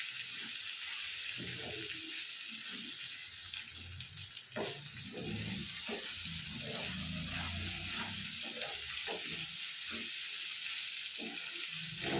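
Egg sizzles in hot oil in a pan, a steady bright crackle with scattered pops and stirring scrapes throughout, close and continuous with no voices.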